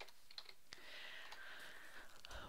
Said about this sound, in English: So let me just type this in real quick.